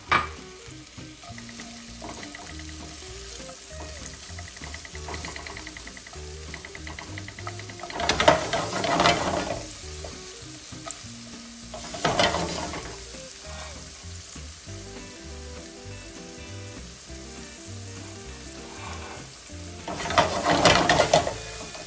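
Onion julienne sautéing in extra virgin olive oil in a pan, a steady low sizzle with stirring and scraping, swelling into louder bursts of frying three times.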